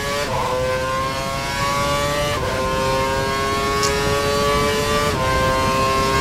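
An F1 racing car engine in F1 2012 revs high and steady, its whine dropping in pitch at each gear change roughly every two to three seconds, loud and close with no talk.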